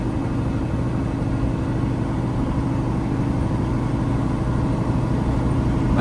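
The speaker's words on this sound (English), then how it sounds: "This truck's super quiet." A 2024 Peterbilt 389 log truck's engine runs with a steady, even low rumble that stays constant and fairly loud the whole time, with no talking over it.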